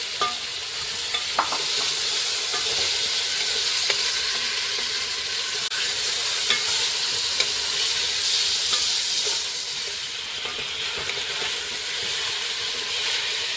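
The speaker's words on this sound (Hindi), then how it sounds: "लहसुन अदरक को थोड़ा सा फ्राई करके इसमें ये सारा गोश्त डाल देंगे।" Meat sizzles and fries in a pan with garlic and ginger, a continuous loud hiss with occasional stirring clicks, close up and without talk.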